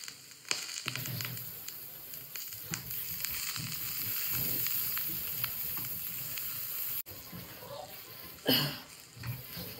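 Eggplant pieces seasoned with salt and turmeric frying in a pan, a continuous close sizzle with stirring clatter, ending in a brief louder scrape.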